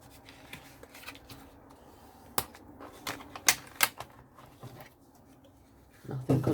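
Paper being scored and folded into a small booklet, with scattered sharp creasing taps and rubbing scrapes, quiet and close, ending in a louder rustle of handled paper.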